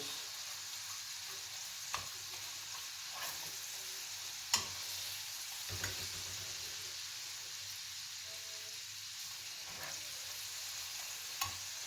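Tomato paste frying in melted fat for Turkish kısır, a steady low sizzle with occasional sharp spoon clicks against the pan as it is stirred, heard close and alone without talk.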